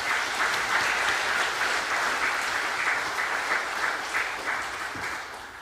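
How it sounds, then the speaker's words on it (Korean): Church congregation applauding during a Sunday worship service, a sustained, dense round of clapping from many hands, moderately loud and steady for several seconds with no talk over it. "우리 수고해 주신 모든 분들을 위해서 박수 한번 하십시오."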